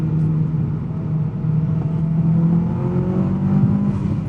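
A modified 1999 Mitsubishi Lancer Evolution VI on the move, its engine holding a steady low drone that swells gently as the car accelerates, heard from inside the cabin without talk.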